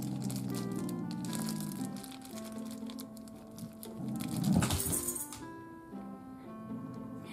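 Crinkling and tearing of plastic up close, with a sharper rip in the middle, over faint background music.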